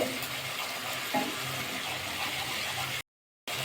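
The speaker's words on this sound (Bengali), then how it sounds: "ভালো করে মশলাটা কষিয়ে দিতে হবে কাঁচা আদা টমেটোমের গন্ধ চলে যাওয়া অব্দি কষি নিতে হবে মশলাটা ভালো করে" Spice paste with ginger and tomato is stir-fried in oil, giving a steady close sizzle with faint stirring scrapes and a brief silent cut near the end.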